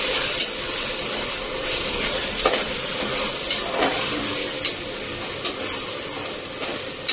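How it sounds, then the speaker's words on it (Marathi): Vegetables for a biryani sauté in a hot pan, a steady broadband sizzle running throughout with occasional sharper scrapes and clicks of a spatula, fairly close and without speech. "चांगल्या परतून घेऊया"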